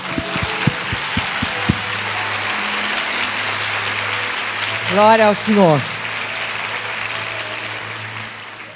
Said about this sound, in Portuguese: Para nós, a melhor salva de palmas.